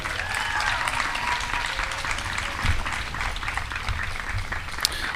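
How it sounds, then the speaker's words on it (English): Sustained applause from a graduation audience for two speakers at a high school senior ceremony, steady dense clapping filling the whole stretch with crowd noise mixed in. "How about one more big round of applause for Ms."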